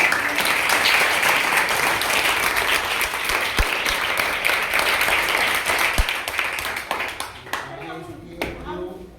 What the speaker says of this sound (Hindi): अपने टीचर के लिए जोरदार तालियां बजाएं।